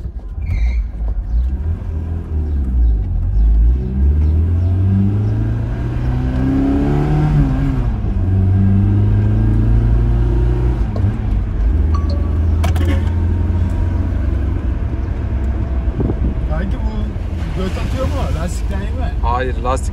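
A Tofaş Şahin car engine revs and rumbles loudly with rising and falling pitch, while people talk over it throughout.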